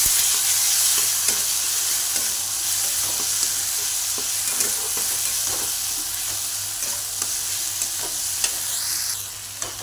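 A spice mix with green chilli paste roasting in a pan for bombil chutney, a steady bright sizzle with regular scraping stirs throughout, near and alone without talk.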